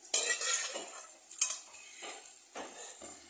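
Mutton pieces being sautéed and stirred in a pot, a metal spoon scraping and clinking against the pan in several bursts over a soft sizzle, close and fairly quiet.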